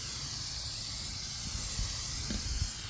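PAM cooking spray oil hisses from an aerosol can onto the firebox of an old smoker, a steady, close spray lasting about three seconds with no talking.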